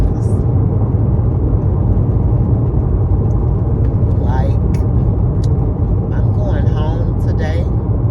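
A car drives home on the road, heard from inside as a constant low rumble of engine and tyres, with someone talking over it throughout.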